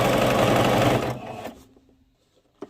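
Sewing machine running fast while stitching a pleated skirt, a loud close whirring that slows and stops after about a second and a half, followed by quiet.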